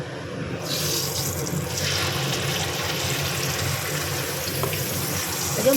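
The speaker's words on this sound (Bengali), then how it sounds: "মশলাটা একটু ভালো করে ভেজে নিব" Spice paste with turmeric fries in a pan with a steady, loud, close sizzle that carries evenly throughout with no pauses.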